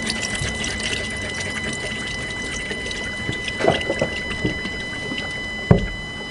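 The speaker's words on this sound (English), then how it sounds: "I can hear fuel bubbling and that." Faint fuel bubbling and gurgling through a freshly primed Mazda BT50 fuel system after a fuel filter change, over a steady hiss, with a few louder knocks and splashes near the end.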